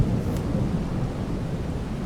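Steady, persistent rain falls in Farming Simulator 22, a dense, even hiss with a low rumbling undertone, close and continuous, with no voices.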